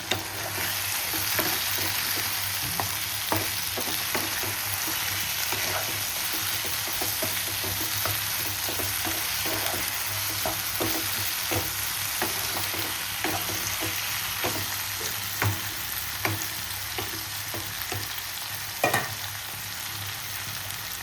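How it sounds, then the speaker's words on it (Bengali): Tomatoes frying in a pan for a South Indian style chicken pulao: a continuous close sizzle with frequent light spoon scrapes and taps throughout, steady and unbroken, with no talking. "টমেটো দিয়ে আমি একটুখানি ভাজবো।"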